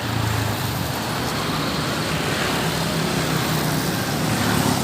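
Close-following buses on an open road give a steady, loud rumble of engines and tyre roar, broadband road noise throughout with no talk.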